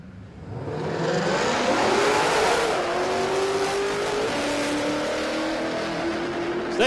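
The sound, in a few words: drag car doing a burnout, burning the tyres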